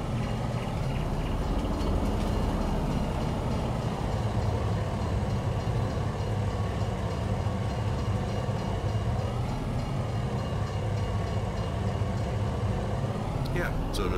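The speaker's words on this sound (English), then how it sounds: "Oop, train is coming here." A train rolls past in Farming Simulator 19, a steady low rumble of rail cars holding evenly throughout with a faint horn-like tone near the end.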